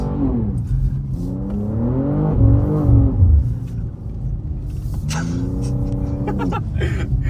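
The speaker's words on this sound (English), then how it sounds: "You can correct so much by just giving the car some gas." A BMW M2 G87 engine revs through rising and falling harmonic sweeps on a snowy road, loud and close, with a second surge of throttle near the end over steady road rumble.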